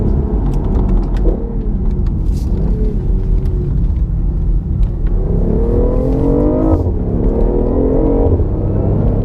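A 2016 BMW i8 hybrid supercar accelerates hard on a road test, its engine note rising steadily in pitch through the gears as a loud, continuous drone close by, with wind and road rumble underneath.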